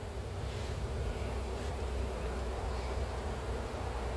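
Honeybees buzz in an open, heavily populated hive, a dense steady drone close to the microphone with no gaps and no voices over it.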